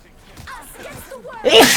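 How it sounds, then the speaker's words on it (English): Quiet murmuring and a soft intake build up to one sudden, loud, breathy sneeze close to the microphone during a Marvel Rivals match. "I'm gonna sneeze."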